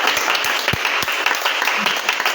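A church congregation applauds at a worship service with a brief burst of steady, close clapping and a few sharper individual claps in the mix.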